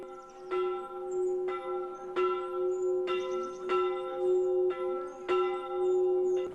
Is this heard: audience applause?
no